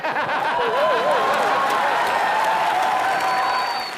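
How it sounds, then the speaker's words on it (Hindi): A studio audience at a television comedy show applauds loudly, a thick, sustained wash of clapping with a few whoops and scattered laughter, while a voice speaks faintly underneath. "ओह जोरदार तालियां अकबर अंबर सर के लिए"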